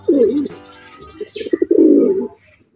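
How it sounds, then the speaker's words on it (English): French Mondain pigeons, a large fancy breed, give soft, throaty coos in a few rolling phrases, fairly close and clear, with no talking. "Now you are watching French Mondain Pigeon."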